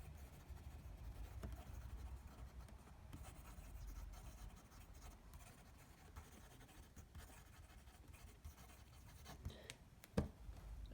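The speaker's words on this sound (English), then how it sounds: "And if I just do some quick writing." A Fine Writing International Planets 'Saturn' fountain pen nib scratching quickly across paper, a faint, close, continuous rustling scrawl with a few sharper strokes near the end.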